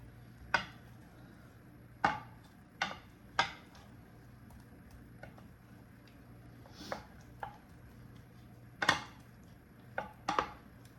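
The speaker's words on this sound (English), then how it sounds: "combine it all together until the meatballs are well coated" Ground turkey meatballs are tossed in an Asian glaze, with scattered light clinks and scrapes of a utensil against the bowl or pan, about a dozen sharp taps spaced irregularly over a quiet background.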